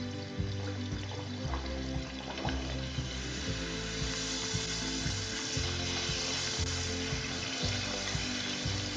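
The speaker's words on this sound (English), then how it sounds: "We are going to fry this now. Slide this to the mediumly hot oil." Club kachori sizzles in medium-hot oil, a continuous bubbling, crackling fry that stays steady and fairly close throughout.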